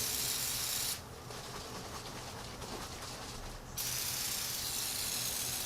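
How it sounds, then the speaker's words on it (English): Spray paint hisses from an aerosol can onto an iPhone housing in one continuous burst of about three seconds, soft and close, between quieter background noise. "So what you want to do is shake it up, and then you just spray everywhere."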